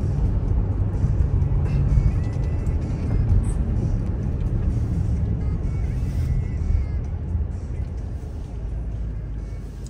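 Vehicles pass one after another at going-home time, a continuous roar of traffic rising and falling, loud and close, with no clear gaps between them.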